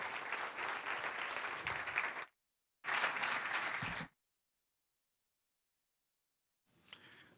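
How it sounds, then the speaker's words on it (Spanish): Audience applause welcoming a mayor at the opening ceremony of an expo festival in Los Ángeles, heard as two steady bursts of clapping with a gap between them, then a fainter third burst after a pause. "un aplauso también para recibir a la primera autoridad comunal"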